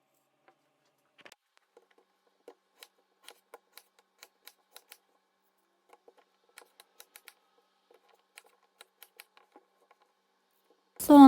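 A knife cutting onions in half on a cutting board, a series of faint, sharp taps spread over several seconds in a quiet kitchen, ending with a brief louder noise.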